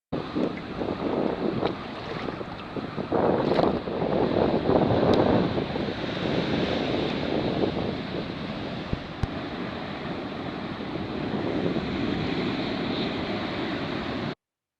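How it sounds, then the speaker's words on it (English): Steady wind buffets the microphone on a sea kayak paddling the Pacific Ocean off Sydney, with a continuous rush of waves and water around the hull throughout. "here's a recent video with the view from my sea kayak in the Pacific Ocean off the coast of Sydney"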